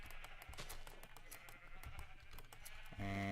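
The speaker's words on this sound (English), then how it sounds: "I've been coming over here and shearing these black sheep." Sheep bleating in Minecraft amid a farm with black sheep being sheared, repeated short game sound effects over a busy background, with a louder bleat near the end.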